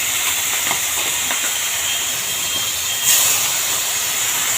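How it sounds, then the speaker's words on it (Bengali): Prawns lightly frying in hot oil give a steady, even hiss close by, with a brief swell of sizzle partway through and no voices. "এই যে আমার তেলটা গরম করে ফেলেছি এবার চিংড়ি মাছগুলোকে হালকা ভেজে নেবে"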